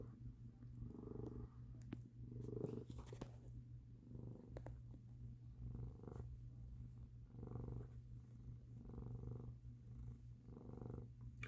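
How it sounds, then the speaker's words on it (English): A black cat purrs close to the microphone, a soft steady rumble pulsing in regular breaths throughout, with no talking. "Who is that ugly little purry cat?"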